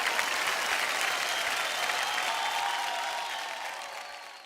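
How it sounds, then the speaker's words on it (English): Audience applause fills the room in a dense, steady wash of many hands, loud and close at first, then slowly tapering as the clapping thins toward the end. "Ladies and gentlemen, a round of applause."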